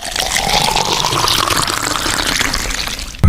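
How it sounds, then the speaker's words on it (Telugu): Milk poured steadily into a container for a science demonstration, a continuous liquid splash and trickle heard up close and fairly loud throughout, with no talking. "ఫస్ట్ అయితే మిల్క్ వేస్తున్నా"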